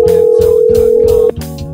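A telephone tone on a podcast phone call: one steady, loud electronic tone held for over a second over a low rhythmic background, then cutting off abruptly.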